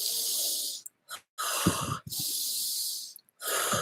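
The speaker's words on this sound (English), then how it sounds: "We're breathing short breath." Short, forceful belly breaths during a guided breathing exercise, sounding as a string of loud, breathy wheezing rushes with brief gaps between them, close to the microphone and with no talk over them.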